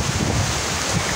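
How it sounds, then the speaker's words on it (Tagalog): Strong wind blasts steadily across the microphone outdoors beside rice spread out to dry, a loud, constant roaring rumble with no talk. "pag grabe jud kay hangin"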